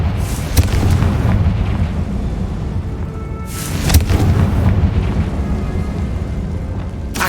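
A Confringo spell exploding in Hogwarts Legacy: deep sustained rumbling under two sharp bursts, a small one early and a stronger crack near four seconds, then a continuing low roar with no voices.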